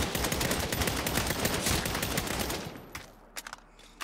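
Sustained automatic gunfire in the Saints Row video game on PC, a dense, loud burst of rapid shots for several seconds that thins out into a few isolated cracks at the end.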